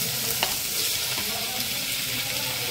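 Tomato is added to a hot pan and fries with a loud, steady sizzle, with a few stirring scrapes and clinks close by and no talking.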